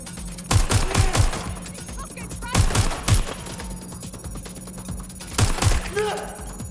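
Bursts of automatic gunfire in the game Watch Dogs: Legion, rapid clustered shots coming in three loud volleys with a steady background hum between them and shouted voices.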